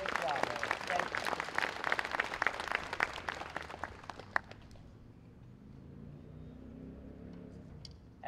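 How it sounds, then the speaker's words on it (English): An outdoor crowd at a small-town Memorial Day ceremony gives a bandmaster a round of applause, steady dense clapping for about four seconds that then fades out, leaving quiet background noise. "I think he deserves a round of applause."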